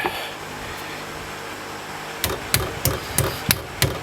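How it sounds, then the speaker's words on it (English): Sharp metallic hammer strikes on a stuck brake bolt of a Honda Accord ring out, six blows spaced roughly evenly over a couple of seconds after a stretch of quiet background hum. "So after a little bit of persuasion with the hammer, it came off."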